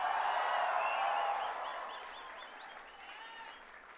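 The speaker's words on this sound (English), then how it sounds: "please, once again, give your guys a big round of applause" Sustained applause from a tech conference audience, loud at first and gradually fading to a softer patter of clapping.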